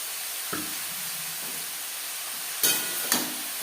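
Chopped red amaranth leaves (lal shak) frying with onion in a pan give a steady soft sizzle, with a few sharper hissing bursts as the greens hit the hot oil and get stirred.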